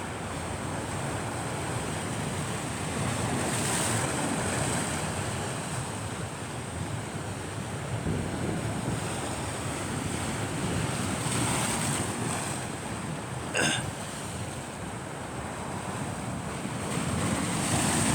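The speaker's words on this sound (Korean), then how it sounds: "사람들이 없는 곳에서 지중해 바다를 한번 바라보고 한 구경해 보겠습니다" Mediterranean sea waves wash steadily onto the beach at Menton, a continuous broad roar of surf mixed with wind buffeting the microphone, with no voices heard.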